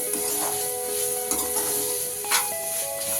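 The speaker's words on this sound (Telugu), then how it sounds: "కొద్దిగా అటు ఇటు తిప్పుకున్న తర్వాత కొద్దిగా కొబ్బరి తురుము కొద్దిగా వేసుకోండి" Pulihora, a tamarind rice dish, stirred in a hot pan with grated coconut and grated carrots: a continuous soft scraping and gentle sizzle, with a faint steady tone in the background.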